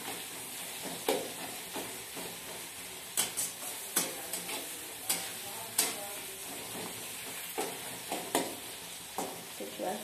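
Kusum bhujia frying in a pan gives a steady sizzle, broken by about a dozen sharp spatula scrapes and stirs at an uneven pace, close up and with no talking.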